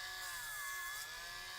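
A small power sanding tool works a toy part, a faint, steady high whine with a brief dip and rise in pitch as pressure changes.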